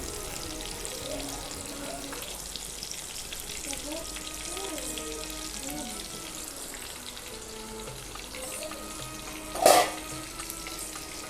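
Onions sizzling in hot oil for green chicken, with a steady crackle, while faint background voices murmur and a brief sharp clatter sounds near the end.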